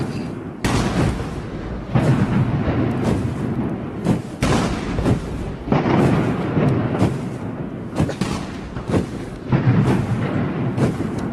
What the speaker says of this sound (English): I do like all the thunder in the background.